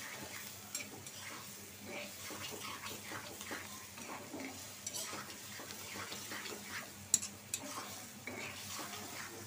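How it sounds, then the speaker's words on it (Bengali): Spice masala stir-fried in a pan, a steady low sizzle broken by repeated scrapes and clinks of a spoon stirring against the metal, close and fairly quiet. "এখন আমি মশলাটা কষায় নিব।"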